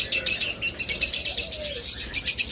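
Caged lovebirds, cockatiels and budgies chirp in a dense, continuous chatter of quick high tweets, close and busy, with a faint low cooing tone underneath.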